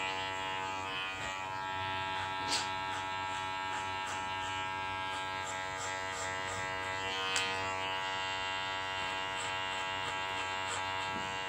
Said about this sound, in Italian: Si sente solo il rumore del rasoio. Macchinetta. Macchinetta, rasoio elettrico.